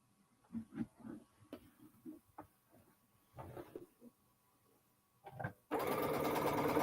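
After some quiet talking and small handling noises, a sewing machine starts up stitching quilt pieces, its loud, steady mechanical whir running continuously to the end.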